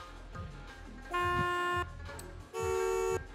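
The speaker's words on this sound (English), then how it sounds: "Also want to hear the horn." A car horn on a Lamborghini in Forza Horizon 5 honks twice, a sustained blare of about 0.7 seconds followed by a second similar blast, loud over a low idling engine hum.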